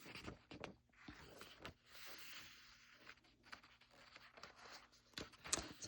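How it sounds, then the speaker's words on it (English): Soft rustling and crinkling of paper pages, with intermittent handling noises and light taps at close range, no talking. "So we're hearing the paper."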